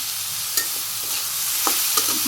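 Turmeric, green chili and onion fry in a pan with a constant loud sizzle, broken by a few quick stirring scrapes and light taps, near and with no talk.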